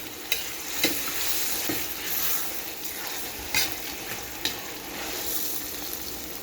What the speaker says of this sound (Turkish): Evet soğan da bayağı kavruldu.